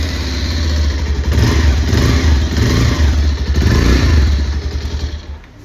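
Up close, a 2024 Bajaj Pulsar 220F motorcycle rumbles at idle through its twin-barrel exhaust. It gives a couple of throttle blips before a chugging, pulsing wind-down.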